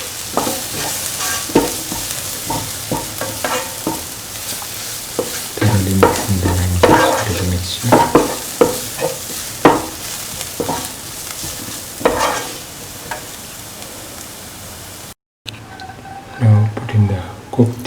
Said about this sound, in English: Mix the lemon juice into the mixture.